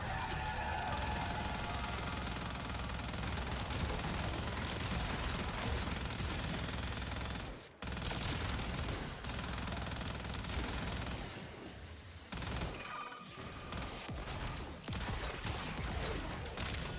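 A mounted gun emplacement firing in Warframe, a continuous dense roar of rapid shots amid loud game noise, almost unbroken except for a couple of brief dips.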